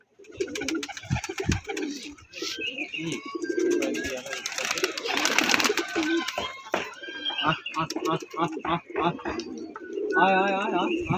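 Several pigeons coo repeatedly near and far while someone talks and calls to them; bursts of wing flapping and other bird chirps mix in.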